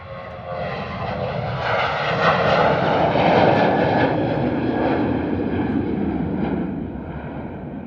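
Ryanair airliner departing London Stansted Airport, its jet engines producing a loud, steady broadband roar that swells and then holds for several seconds without any voices.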